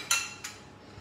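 A metal spoon clinks sharply against a dish twice while crème fraîche sauce is spooned onto chicken nuggets and vegetables. The two bright taps are close and quick, followed by a quiet room.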